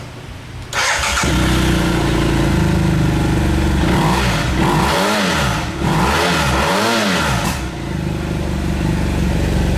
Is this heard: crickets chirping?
no